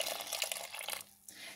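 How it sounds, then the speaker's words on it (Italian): Water poured from a tap into a cooking pot of chickpeas makes a steady, bright rushing splash up close, breaking off briefly near the end before resuming. "vado ad aggiungere un po' di acqua fino a coprirli"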